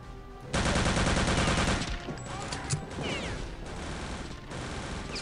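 A loud, rapid stream of MG42 turret machine-gun fire in Return to Castle Wolfenstein sounds up close, then gives way to scattered impacts and ongoing gunfire in the background.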